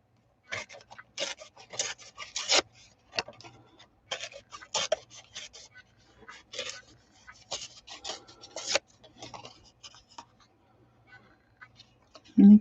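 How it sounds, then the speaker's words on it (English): Paper torn by hand while cutting out a printed image for a card project, heard as a run of short, dry rips and rasps in bursts, fairly close and quiet, with brief pauses between tears. "I'm going to just go ahead and tear the image rather than cut."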